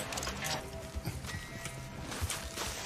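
Hooves of a horse in a video game clip-clop steadily at a walking pace, with muffled thuds repeating under a dense, noisy game background.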